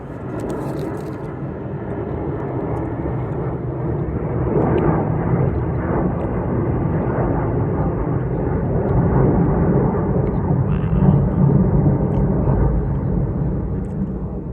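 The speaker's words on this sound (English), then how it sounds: "Following a huge B-52, I think." A large B-52 bomber drones overhead during a summer hike on Bull Hill near Garrison. A low, broad rumble builds gradually, swells through the middle and holds, distant but steady, with no talk.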